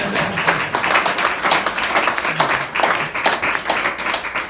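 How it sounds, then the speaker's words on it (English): An audience at a political rally for a congressional candidate claps steadily, a dense, close wash of hands that rises and falls slightly over several seconds with no pauses. "you can clap for that"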